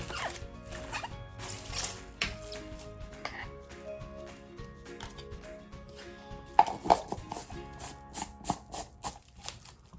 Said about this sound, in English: I'm going to put a piece of plastic wrap over the top